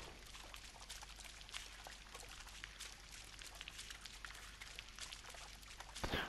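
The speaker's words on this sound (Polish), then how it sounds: "Słychać ładnie krople spadające." Faint water drops fall and trickle in the snowy northern landscape of the video game Spirit of the North, forming a soft, continuous pattering over a quiet ambient bed.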